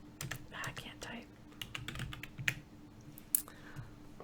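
Quick bursts of typing on a computer keyboard, close and fairly quiet, clattering in irregular runs with a sharper click near the end, while a voice murmurs softly under the keystrokes.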